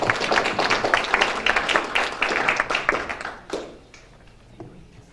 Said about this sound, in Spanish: Por favor, un aplauso para Jacinto.